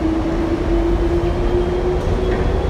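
An airport SkyTrain people mover running, a steady close rumble with a sustained low hum and rolling rail noise throughout, no voices.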